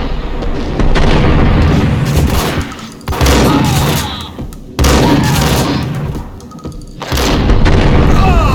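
Loud explosive booms in the Max Payne video game, several heavy blasts separated by brief lulls, with rumbling bursts and crackling debris throughout.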